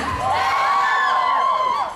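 One side of the audience at a Thai prize game cheers, a loud burst of mixed shouting that includes children's voices and holds steady for about two seconds.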